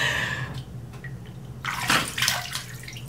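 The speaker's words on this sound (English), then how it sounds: "So you guys saw how many times I dunked my face or splashed my face." Water splashes and sloshes as someone repeatedly dunks and splashes their face over a basin, with soft drips between bursts and a louder, busier run of splashing toward the end.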